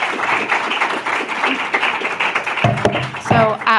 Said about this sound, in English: let's give Amber another round of applause